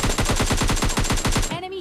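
Rapid automatic gunfire in PUBG Lite rattles in a fast, even burst of about fifteen shots, loud and close, then stops with a short metallic ring.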